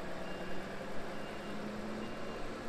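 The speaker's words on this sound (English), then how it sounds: "So this truck, he went the wrong way, so he's backing up." A truck reverses on a golf course with its backup beeper sounding, a steady tone running through a continuous low engine rumble, moderately near and without talk.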